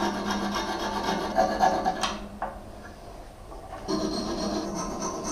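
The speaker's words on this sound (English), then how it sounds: "I will file those down." A hand file rasps against motorcycle seat parts for a Honda Street 500 cafe solo seat install, steady scraping strokes close by for about two seconds, then a quieter pause before the rasping resumes.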